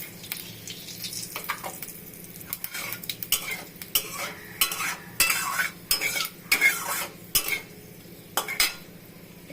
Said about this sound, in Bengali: এখন কালো জিরা দিয়ে দিলাম।